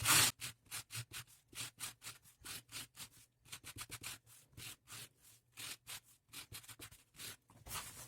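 A stiff plastic brush scrubs a piece of denim cut from old jeans, fraying it with brisk, evenly spaced rasping strokes back and forth, close and alone.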